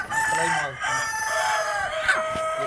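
Plymouth Rock rooster crowing up close, one drawn-out cock-a-doodle-doo with a loud harmonic call that trails off, followed by softer clucking and faint background noise.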